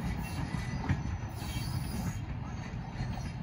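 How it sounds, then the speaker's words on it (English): A train with a caboose at the end rumbles steadily past at close range, a continuous low roar with faint wheel squeal and no voices. "Bye-bye, beautiful train."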